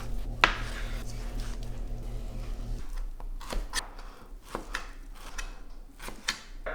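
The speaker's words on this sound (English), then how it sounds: "So with the pork belly, what I need to do right now is just to slice it." A knife cuts pork belly into bite-sized chunks on a board, giving a series of sharp, close chopping knocks at an irregular pace, with a low hum fading out partway through.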